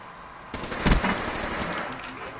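Gunfire from a gun in an online shooter video game, a short burst of rapid shots over a constant noisy game background, moderately loud with no talk.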